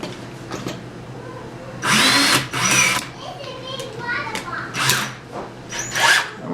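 A power drill fitted with a countersink bit bites into a steer's horn in short whirring bursts of a second or so, close and loud, with speech and background voices between them.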